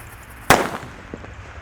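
A red Disco Happy Flower firework is lit and bursts with one sharp, loud crack, then a short crackling sputter fades away, with a small pop after it.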